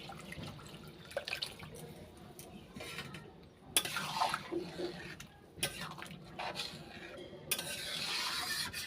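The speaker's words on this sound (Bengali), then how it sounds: "এবার জল দিয়ে দিচ্ছি" Water goes into a pan of ghugni, a spiced dried-pea curry, and the mixture is stirred. Splashing and gurgling come with soft spoon scrapes and clinks, then a steadier watery hiss near the end.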